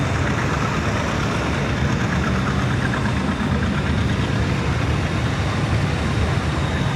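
A Steiger tractor with a Cummins engine rated at 280 horsepower runs steadily at a parade during the Half Century of Progress show in Rantoul, Illinois, giving a loud, continuous low diesel rumble that stays constant from start to finish.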